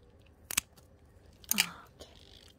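Scissors snip through graptopetalum succulent stems in two crisp, close cuts about a second apart, followed by a faint rustle.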